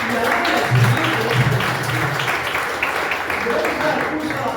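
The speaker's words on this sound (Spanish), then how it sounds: "Denle un aplauso a Dios" A church congregation claps and applauds steadily, with voices and cheering mixed in throughout.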